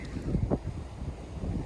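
Wind blows steadily across the microphone beside the Sassagoula River, a soft, continuous low rumble with small gusty swells and no voices.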